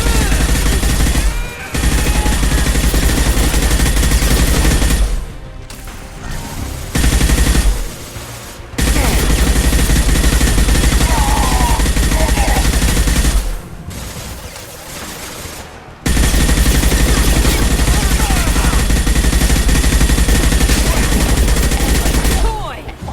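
Sustained suppressive gunfire in the Mass Effect 2 video game, loud dense automatic bursts firing in long stretches broken by a few brief pauses, with some speech mixed in.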